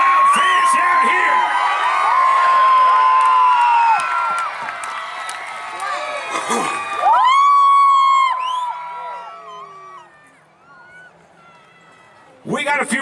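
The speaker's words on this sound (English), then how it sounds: "We appreciate every time when you guys make that applause and make that noise" Loud fans at a Brandon, MB monster truck show yell, whoop and cheer in a sustained roar, and a whistle-like tone rises above it. The crowd noise fades toward the end and then surges again briefly.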